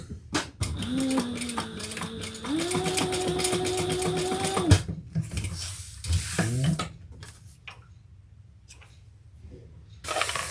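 A sewing machine back stitching in a home sewing session runs in a close whirring, motor-driven burst with shifting pitch for several seconds, then stops, followed by scattered handling clicks and rustles.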